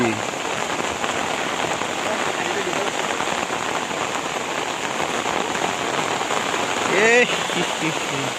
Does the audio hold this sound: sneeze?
no